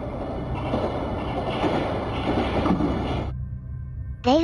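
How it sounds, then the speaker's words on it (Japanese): Steady rumbling rush of a streetcar running on rails, broadband and continuous, then dropping off near the end as a brief tonal squeal rises. "レールを走る音が聞こえ"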